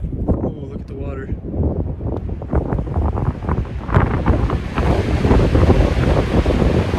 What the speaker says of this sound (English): Cue the wind.